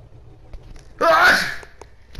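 A single loud, close sneeze bursts out about a second in and fades, standing alone against faint background noise during a GTA V Online gaming session.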